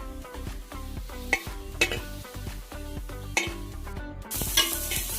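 Onions sautéing in a pan for chicken curry give a low continuous sizzle with occasional spoon clinks and scrapes, heard under steady background music.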